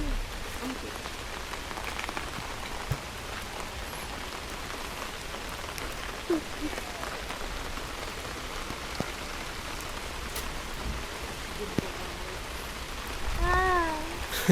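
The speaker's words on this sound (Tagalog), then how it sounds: "Sarap ng ulan oh." Rain patters steadily on surfaces outdoors in Canada, a soft continuous hiss with scattered louder drops, while a few faint voices talk briefly in the background.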